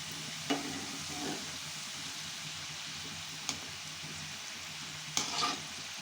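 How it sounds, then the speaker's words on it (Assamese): Khurma pieces frying in a pan until golden brown, a steady soft sizzle throughout with occasional sharp clicks and stirring knocks, no voices. "এইখিনি যেতিয়ালৈকে ব্ৰাউন কালাৰ নহয় তেতিয়ালৈকে এইখিনি ভাজি থাকিব লাগিব"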